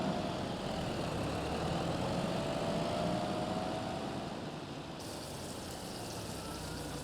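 A farm tractor engine labors through deep snow, a steady low rumble that holds loud and continuous from start to finish with no voices.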